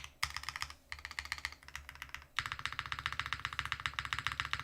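Rapid typing on the modifier keys of a DK1-TKL copper-bottom mechanical keyboard, crisp, clacky keystrokes in a steady run, a brief pause, then a denser burst of key presses up close.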